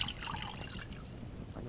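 A water hose trickles and splashes softly in The Last Plague: Blight, a brief, steady liquid hiss with no talk over it.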